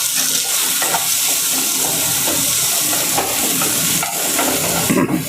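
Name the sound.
stirring onion, tomato and green chilli frying in a pan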